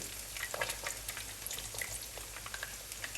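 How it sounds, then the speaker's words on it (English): Chicken frying in hot oil, close up: a continuous crackling sizzle peppered with small sharp pops. "remove the chicken from the frying oil"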